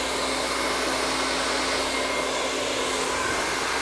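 A hair dryer runs steadily on high heat while blow-drying hair at the roots, a loud, continuous whooshing roar with a faint low hum and no talking.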